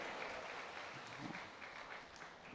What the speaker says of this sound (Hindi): ताली तो बजा दो लंगर के लिए